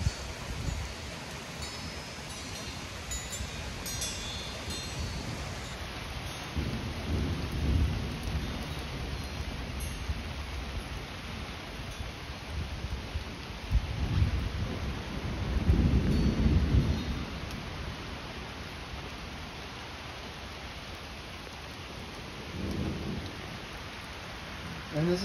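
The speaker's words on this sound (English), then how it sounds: "Here comes the rain." A heavy thunderstorm with steady rain pouring and wind picking up, low rumbles of thunder rolling in several times over a continuous hiss of rainfall; a faint voice is briefly present.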